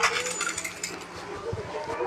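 Coins being collected in a police video game ring out as a rapid string of bright metallic jingles over busy game sounds.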